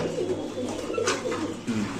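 Soft, low coos of white King pigeons repeat in a steady murmur close by, with a brief brighter chirp partway through.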